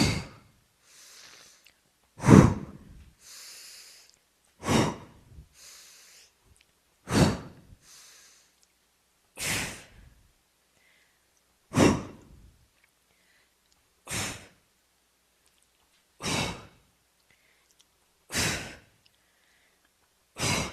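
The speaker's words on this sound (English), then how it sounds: "Now I'm exhaling." Strong, forceful exhalations during a back and biceps weight workout, a steady series of about ten breathy huffs spaced roughly two seconds apart, close and clear with near silence between them.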